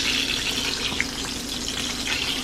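Steaks frying in a hot pan as they are flipped, a steady loud hiss and crackle that continues throughout with a faint clack near the middle, and no one speaking.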